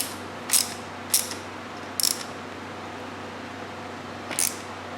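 A bolt and washer being snugged down on the front fork guard of a Yamaha YZ125 two-stroke dirt bike: four short, close ratcheting bursts separated by pauses, with no voices.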